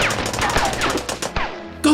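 Rapid bursts of gunfire sound effects hit a locked wooden box in a toy action-figure battle, loud close automatic fire with a short pause before a final burst.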